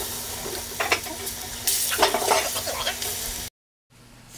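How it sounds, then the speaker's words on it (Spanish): Plantain slices frying in a pan, a steady bright sizzle with a few clinks and stirring sounds, close up, cutting off abruptly near the end. "Fría los plátanos hasta estar dorados."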